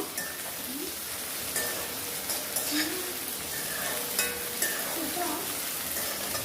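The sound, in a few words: sautéing tomatoes in a pan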